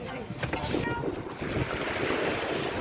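Small boat travelling on the sea near Sombrero Island, Masbate, a constant rush of engine, water and wind buffeting the microphone, with people talking faintly underneath.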